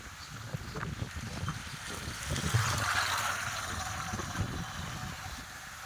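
Waves wash steadily against the shore of a vast lake set among mountains, a continuous soft splashing and gurgling that stays fairly close throughout with small surges but no distinct breaks.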